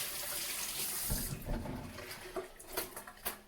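Organic spinach rinsed under a running kitchen tap, with a steady broadband water hiss that breaks into splashes and clattery bursts as the leaves move through the stream, close and moderately loud.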